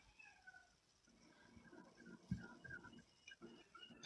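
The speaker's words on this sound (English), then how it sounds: "I think that's an actual cat." Cat meowing indoors during a live stream, heard as several faint, quiet meows and small sounds scattered across a few seconds in a quiet room.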